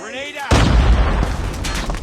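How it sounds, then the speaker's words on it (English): A grenade blows up in the Call of Duty Mobile game with one sudden heavy boom that rolls out into a long rumbling tail, close and loud, after a short quieter stretch with faint voice chatter. "Grenade out!"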